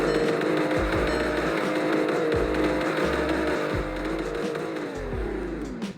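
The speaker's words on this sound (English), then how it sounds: "Here are the revs." A car engine revs repeatedly, several sharp throttle blips rising and falling over a steady rumbling idle.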